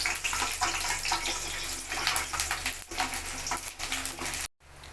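Five dried red chilies and ten garlic cloves frying in hot oil with mustard seeds, a dense continuous crackling sizzle close by, cutting off abruptly near the end.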